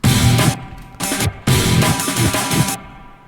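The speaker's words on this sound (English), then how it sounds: "So these are chugs." Heavily distorted electric guitar playing palm-muted chugs for an Ultrakill cover, loud, close bursts in a choppy rhythm with short gaps and one longer ringing stretch before cutting off.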